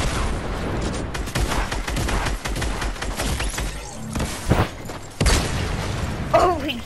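Video game battle with a rapid fusillade of gunfire and booming blasts, including an RPG explosion, loud and dense throughout, with brief voice fragments near the end.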